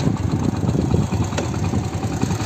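A Hero Honda Splendor Plus motorcycle engine idles just after a kick start, a steady low close rumble through the silencer pipe with even, unrevved pulsing.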